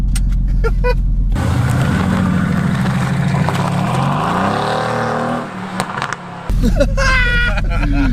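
Mercedes-AMG sports car with a sports exhaust accelerating hard in Sport Plus mode, a loud, continuous rising engine roar and exhaust blare close by, easing briefly before surging again, with a voice talking over it.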